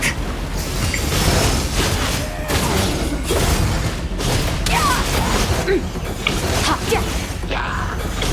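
Bombs burst in rapid succession during Genshin Impact gameplay, a loud barrage of booms, crashes and whooshing debris with mechanical clatter, continuous and dense throughout.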